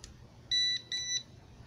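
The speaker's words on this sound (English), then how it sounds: "This will beep if it senses electricity." Two short, high electronic beeps in quick succession from a voltage tester detecting power at a 110V outlet, over a quiet room background, fairly clear and close.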